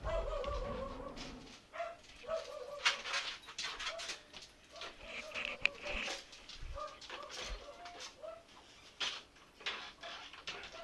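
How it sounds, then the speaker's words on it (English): Dog barking in the background of a house, repeated sharp barks and yelps in irregular bursts, moderately faint and somewhat distant, under a bed of game sounds and clatter. "Apologize about the dog barking in the background."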